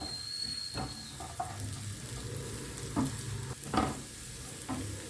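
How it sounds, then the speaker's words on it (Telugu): Green chillies frying in hot oil with cumin, mustard seeds and onions for a banana flower curry, a steady close sizzle broken by a few sharp stirring scrapes, with no voices. "సో ఇప్పుడు ఈ సమయంలో పచ్చిమిరపకాయలు వేసుకోండి."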